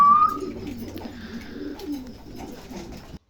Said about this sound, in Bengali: প্রিয় দর্শক এখানে একজোড়া হাউস পিজন আছেন